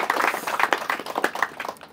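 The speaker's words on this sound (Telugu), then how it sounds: "ప్రశాంత్ గారు ముందుకొచ్చి వీడియో ఇచ్చినందుకు వాళ్ళకి గట్టిగా చప్పట్లతో అభినందనలు తెలియజేయండి" Applause for Prashant at a gathering: a steady patter of hand claps that rises and falls for about two seconds, moderately loud, with a faint trace of voices beneath it.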